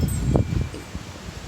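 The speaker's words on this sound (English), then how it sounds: "Oh my gosh, it's so windy there." Strong wind blows outdoors, buffeting the microphone with low, rumbling gusts over a short stretch, loudest near the start and then easing.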